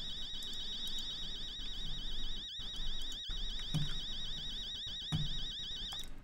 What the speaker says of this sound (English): This alarm is so annoying.